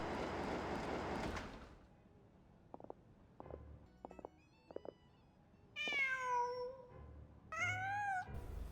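A cat in Genshin Impact lets out two clear, rising-and-falling meows near the end, after a burst of rushing noise and a few faint knocks in a quiet scene.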